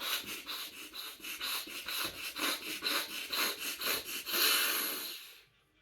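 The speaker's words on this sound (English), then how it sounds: "The method number 1 is breathing really fast" Rapid, forceful breathing: a steady run of quick, rhythmic pants, about two per second, close and fairly loud with no talking, speeding up and blurring together near the end before stopping abruptly.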